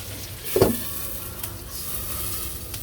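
An egg fries in hot oil in a village kitchen pan, a soft steady sizzle with a sharp spatula tap near the start and a faint scrape later.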